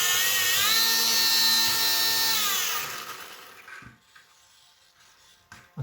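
Small electric motor spinning the propeller of a Guillow's Chipmunk RC model aeroplane, a loud steady high-pitched whine that holds for a few seconds, then winds down and fades to near silence with a few faint knocks.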